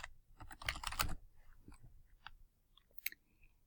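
A short run of keystrokes on a computer keyboard as a name is typed, a quick cluster of clicks followed by a few scattered, softer taps in a quiet room.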